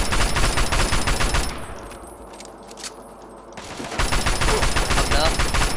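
Loud, rapid bursts of automatic gunfire from shooting an enemy in Fallout 3 drop away to near quiet with a couple of single shots, then resume as a dense, sustained volley.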